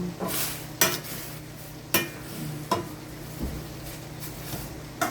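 Vegetables and shrimp paste being stirred in a pan for Ilocano dinengdeng, a soft sizzle underneath and sharp utensil scrapes and knocks at roughly one-second intervals, close and alone.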